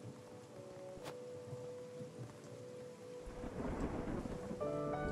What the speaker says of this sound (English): It's raining in the cave.